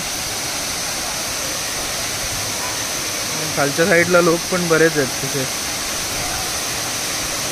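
The Savdav waterfall near Kankavli sends out a constant broad roar of falling water, loud and steady throughout, while someone briefly talks over it.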